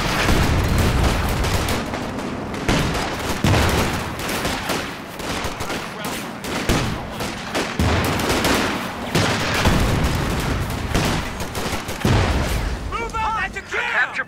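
Tank coaxial machine gun fire and surrounding gunfire in Company of Heroes, a World War II strategy game with a Sherman tank, sounding as dense, continuous battlefield shooting with booms, loud throughout, with voices calling out over it.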